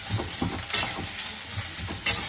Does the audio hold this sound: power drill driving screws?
no